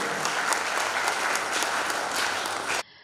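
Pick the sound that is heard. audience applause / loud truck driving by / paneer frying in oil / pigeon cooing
audience applause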